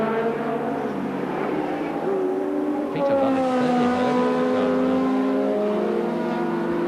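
Racing cars at a 1985 Brands Hatch Thundersports Trophy race, engines revving and shifting in rising and falling tones as cars pass at a distance.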